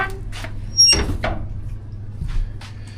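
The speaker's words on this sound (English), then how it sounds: "So I'm going to shut the door." The metal door of a Central Boiler outdoor wood-fired boiler is swung shut with a sharp clunk and brief metallic ring, followed by a softer second knock and faint background hum.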